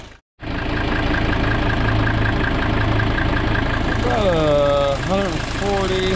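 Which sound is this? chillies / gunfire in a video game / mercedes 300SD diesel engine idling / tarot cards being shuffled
mercedes 300SD diesel engine idling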